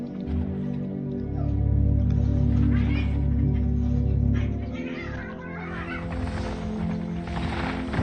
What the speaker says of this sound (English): Cats are being crazy again tonight.